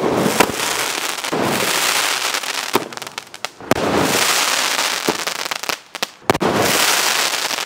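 Rapid crackling bursts of Deepavali firecrackers pop and sizzle continuously, with sharp louder bangs scattered throughout, close and loud.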